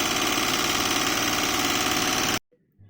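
A car engine hums steadily at idle after its throttle body was cleaned, loud and close with an even mechanical drone, then cuts off abruptly near the end, leaving quiet.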